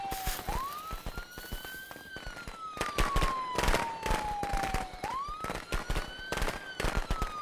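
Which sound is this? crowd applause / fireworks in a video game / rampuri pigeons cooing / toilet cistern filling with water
fireworks in a video game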